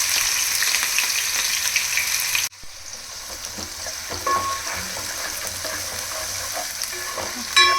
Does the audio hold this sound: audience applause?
no